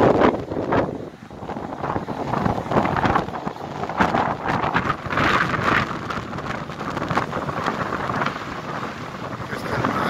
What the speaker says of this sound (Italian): Questo è il mare di oggi, c'è un vento che si piange malissimo, ma c'è un vento fortissimo.